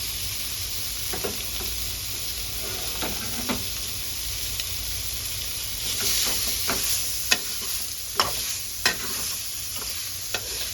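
Pineapple stir-fried in a pan with bell pepper, spring onion, mushrooms and fatty pork, giving a steady hiss of frying with repeated scraping stirs that get sharper and more frequent toward the end, no voices.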